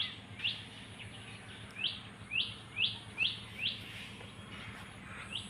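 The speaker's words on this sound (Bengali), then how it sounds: "তো সকাল সকাল পাখির ডাক শুনতে ভালোই লাগে।" A bird chirps repeatedly, about seven short bright notes at a steady pace, over a quiet low background hum, with no talking.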